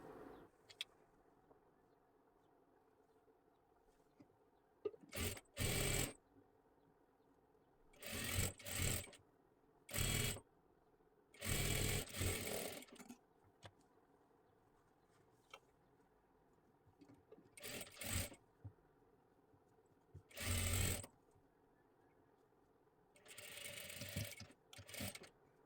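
Sewing machine stitching a puff sleeve onto a blouse, running in short separate bursts of about a second or two each with quiet pauses between, close and fairly loud against a low steady background hum.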